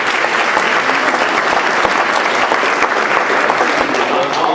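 A conference audience applauds steadily and loudly at a livable communities summit, dense clapping filling the whole stretch without a break.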